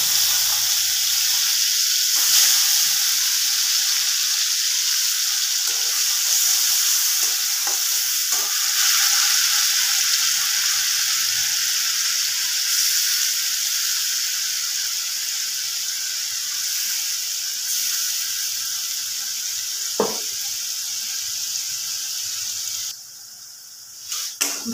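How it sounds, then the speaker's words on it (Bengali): Onion paste sizzles and fries in a pan for chicken kosha, a steady bright hiss with occasional stirring scrapes, close and loud with no talking. "ভালো করে পেঁয়াজটাকে একটু ভাজা ভাজা করে নেব"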